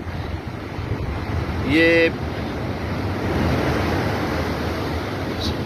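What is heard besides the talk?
sea waves crashing on the Karachi shore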